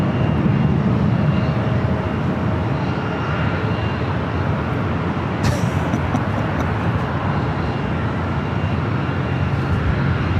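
A Delta Airlines Boeing 737-800 jet roars down the runway on takeoff at LAX, a loud, broad, sustained engine rumble filling the whole stretch with no talk over it.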